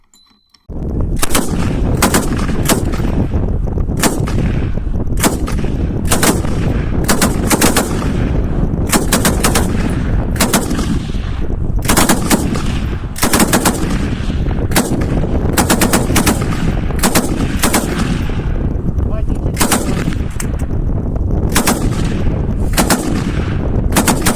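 A Degtyarev DP machine gun fires long, loud bursts of rapid shots, the rattling volleys continuing almost without pause and echoing outdoors for over twenty seconds.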